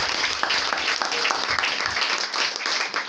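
A church congregation applauds in praise, a dense steady patter of many hands clapping close by, with faint voices mixed into the crowd noise.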